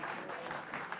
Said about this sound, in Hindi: राजीव के लिए तालियां।